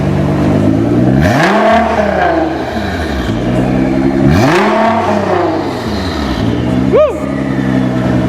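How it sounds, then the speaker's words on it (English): Nissan GT-R R35 with an Armytrix valved exhaust revving hard twice in loud, rising-and-falling sweeps with turbo whine, followed by a short sharp blip near the end; a voice whoops over the engine. "That turbo's so loud, you can hear it back here."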